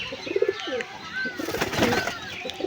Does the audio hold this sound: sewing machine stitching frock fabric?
no